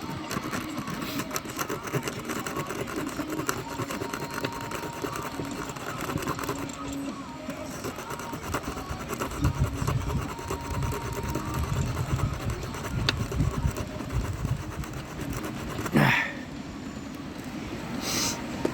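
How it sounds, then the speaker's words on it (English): A power sander works a wooden jewelry box, a continuous buzzing whir with rough scraping surges midway and a brief bump near the end, close and steady. "I don't know if I can do it by hand or if I need my sander here."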